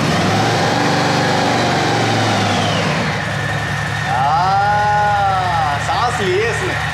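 A cruiser motorcycle with a stock exhaust and a Fat Boy-type engine starts and settles into a loud, close, throbbing idle with a few revs. Someone talks over the engine.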